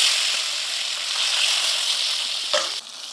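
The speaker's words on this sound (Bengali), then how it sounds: "আবার দুটো মাছ ভেজে নেব।" Fish frying in hot oil makes a loud, continuous close-up sizzle that ends with a brief clatter and a sudden drop in level.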